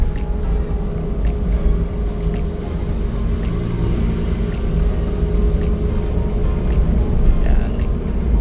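A Suzuki DA17V van's engine holds a steady drone at about 3,000 RPM while driving, a constant low hum mixed with road and wind noise.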